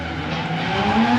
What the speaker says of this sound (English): The drift cars are going wild over there, man.